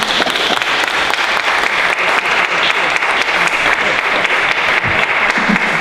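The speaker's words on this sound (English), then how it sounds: "I think we should give it a little more applause than that." Audience at a local historical society talk on coal mining giving steady, dense applause that fills the room from start to finish.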